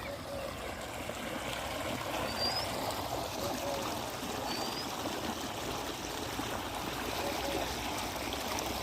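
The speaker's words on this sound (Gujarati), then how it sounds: "ચાલુ કરી દીધું છે પાણી અટાણામાં." Irrigation water flowing steadily into a wheat field, a constant close rushing trickle with no pauses and faint outdoor ambience beneath.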